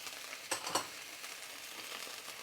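Whole cardamom pods, bay leaf and cloves frying in a pan, a faint continuous sizzle with two quick clicks of spices or a utensil early on, quiet and without talk.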